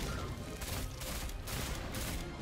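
A tank blows up in Destiny 2, a steady roar of explosive rumble and rapid gunfire-like crackle filling the whole moment, fairly quiet overall with no clear speech.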